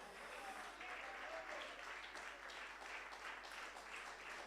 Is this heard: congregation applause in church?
yes